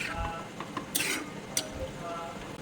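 Chicken curry with cashew paste stirred in a pan, a utensil scraping and knocking the metal with a couple of sharp clinks and a soft sizzle beneath, close by.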